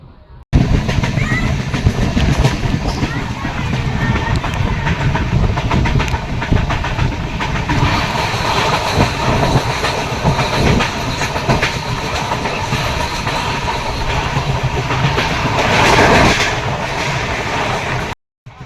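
The 10116 Madgaon–Bandra Terminus express runs on the Konkan Railway, heard from inside the coach as a steady loud rumble with rhythmic clickety-clack of wheels on rail joints that continues unbroken before cutting off abruptly.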